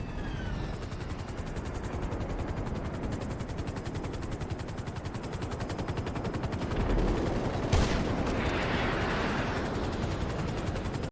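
In GTA Online, a helicopter's rapid rotor thrum runs throughout alongside dense gunfire, with a sharp sniper crack standing out near the end.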